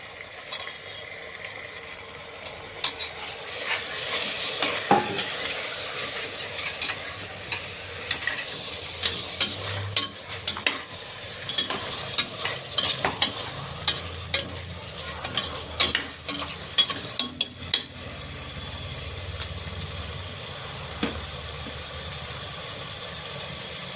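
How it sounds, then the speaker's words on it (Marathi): Chicken stir-fried in a pan of tempered spices, with scraping clinks of a utensil and a steady background sizzle throughout, fairly close. "फोडणी पूर्ण झाली की त्याच्यात चिकन मिक्स करा आणि परतून घ्या।"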